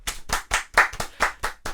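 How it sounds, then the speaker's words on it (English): A run of eight quick hand claps in a steady even rhythm, close and crisp, with no talking between them. "just give it I want to do the clap"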